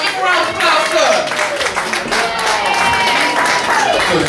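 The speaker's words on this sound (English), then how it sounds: "Give a round of applause to him." Clapping from an audience at a poetry event after a poet is introduced: dense, steady applause from a moderate crowd at close range, with a voice speaking over it.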